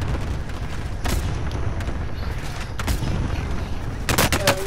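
Video game gunfire in a Salt Mine map: scattered gunshots and short bursts, some louder close shots near the end, over a busy background.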